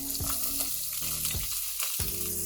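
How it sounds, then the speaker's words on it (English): Chopped onions hit hot white oil in a pan with a loud, crackling sizzle that comes in several bursts as they are stirred, close and alone without voices. "Now in the same pan I'll add in another tablespoon of white oil. And I'll add in the chopped onions"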